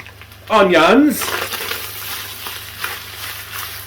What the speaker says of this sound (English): As I'm talking, I'm putting onions in, by the way.